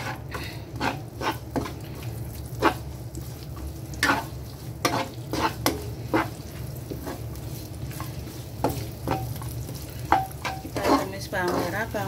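Shallots, garlic and ginger fry in a pan with a steady sizzle, broken by frequent scraping and clinking strokes of a spatula stirring close by.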